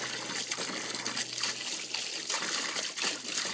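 A garden hose runs water steadily with a trickling, splashing wash as a dog laps at the stream, continuous and fairly close, without talk.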